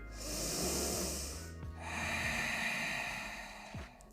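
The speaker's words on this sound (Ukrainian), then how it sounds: "Ну, і ще вдих." During a yoga session, a slow, deep breath is drawn in through the nose, close and soft, in two long airy swells separated by a brief pause, with a faint sniff near the end.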